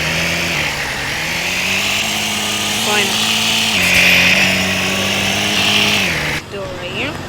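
An old tractor engine revs steadily while being loaded onto a flatbed trailer, a loud, close mechanical drone with shifting pitch that cuts off near the end as someone speaks briefly.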